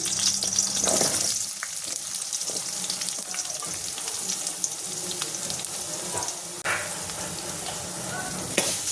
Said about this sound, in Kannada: ಈರುಳ್ಳಿನ ಸ್ವಲ್ಪ ಫ್ರೈ ಮಾಡ್ಕೊಳ್ಳೋಣ.